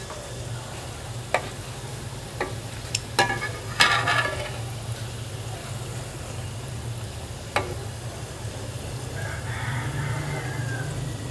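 Steady sizzling of ring samosas frying in oil, with occasional clinks and scrapes of a utensil as they are turned, and a faint higher chirp in the background.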